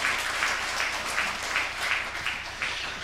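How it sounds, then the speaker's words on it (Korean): Congregation applause inside a Seoul church during a Sunday worship service, a steady wash of clapping at moderate distance lasting the full three seconds without pause. "우리 다시 한번 크게 영광의 박수 한번 드리겠습니다."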